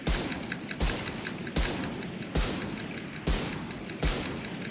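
Sniper rifle shots in Valorant, six loud, sharp reports with booming tails spaced evenly under a second apart, each followed by a reload before the next.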